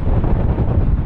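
Strong wind buffeting a microphone on the Gulf of Finland shore, a steady loud low roar of gusts with no voices.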